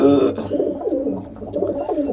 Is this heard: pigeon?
yes